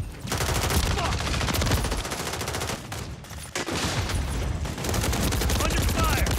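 Rapid video game gunfire, a Call of Duty–style shooter with a BAL 27 assault rifle, rattles in dense sustained bursts with brief gaps, loud and close throughout.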